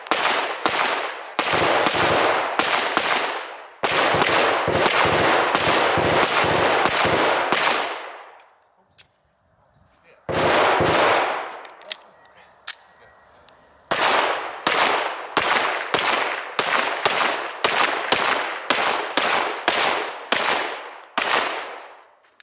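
Loud, sharp gunshots at an outdoor shooting range, fired in rapid strings with short pauses between volleys and one longer lull partway through, no talking.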